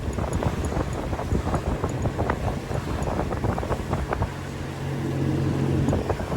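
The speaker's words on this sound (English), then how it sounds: "Look at that sail, look. Flapping away" A sailboat's sail flaps and rattles in the wind in quick irregular snaps, close to the microphone, over constant wind roar and low hull and water rumble.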